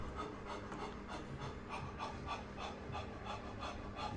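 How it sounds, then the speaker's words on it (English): Rapid, forceful rhythmic breathing during strength training on exercise machines, quick panting breaths in a steady cadence, faint and close with a rasping texture. "that breath, you can see I'm breathing intensely there, keeping it flowing"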